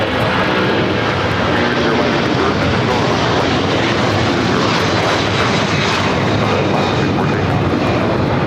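Continuous loud roar of jet airliner engines at LAX, a steady broadband rumble and hiss with no breaks, as an aircraft waits to take off from runway 25 left.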